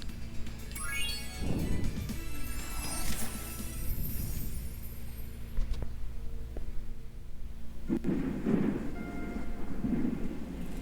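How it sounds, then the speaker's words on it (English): Rain and rolling thunder in the Spyro 2: Ripto's Rage video game, a steady hiss of rainfall under low rumbles and a few rising game chimes, with two heavier thunder swells, no speech. "Is this rain ever gonna stop?"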